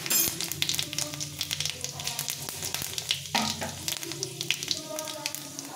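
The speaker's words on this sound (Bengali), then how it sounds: "তেলটা গরম হয়ে গেছে, শুকনো লঙ্কা, সাদা জিরে আর একটু পাঁচফোড়ন।" Dried red chillies, cumin seed and panch phoron frying in hot oil in a pan, a steady close crackling sizzle with sharp spattering pops and occasional stirring clinks throughout.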